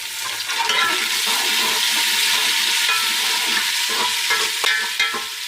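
Onions and tomatoes sizzle steadily in a hot pan while a spoon stirs and scrapes through them, close up with no talking.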